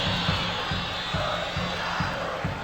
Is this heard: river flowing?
no